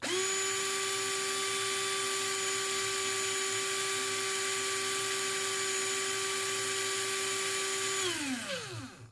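A repaired Black+Decker LD008 cordless screwdriver runs with a steady, high motor whine for about eight seconds, then winds down quickly as the trigger is released. No one speaks over it.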